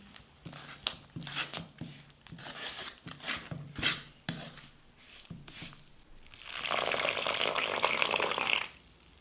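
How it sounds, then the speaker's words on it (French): Water is poured into flour for vegan zeppole honey fritter dough, a steady rushing pour near the end after a series of soft knocks and crinkly kitchen handling sounds. "Je vais rajouter de l'eau pour amalgamer toute la farine."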